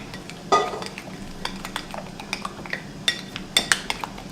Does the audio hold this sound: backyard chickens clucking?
no